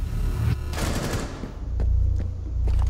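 Rapid automatic gunfire bursts from the video game Rainbow Six Siege during a Terrorist Hunt bomb-disarm mission on the Hereford Base map, loud and close, followed by quieter scattered shots and game ambience.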